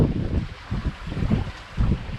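A south wind blows over a sailboat sailing along an island coast, giving close buffeting gusts of low rumbling wind noise against the microphone in uneven surges.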